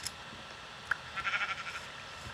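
A Minecraft sheep bleats once in a short, faint wavering call, alone with no talking.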